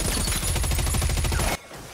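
Gunfire in a scene from the movie Argylle: a rapid, loud burst of automatic shots in fast rhythm that cuts off abruptly near the end, leaving quiet background.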